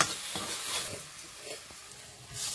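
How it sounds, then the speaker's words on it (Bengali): A spice paste with coriander and cumin powder is stir-fried, brief scraping strokes moving through a soft sizzle of oil, close and quiet, with no voices. "ধনে গুঁড়ো আর জিরে গুঁড়ো দিয়ে মশলাটাকে একটু কষিয়ে নেব"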